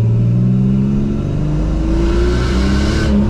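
A loud turbocharged 3800 V6 Camaro engine, making 8 or 9 pounds of boost, revs hard with rising pitch and a gruff, aggressive tone, sustained throughout and close by.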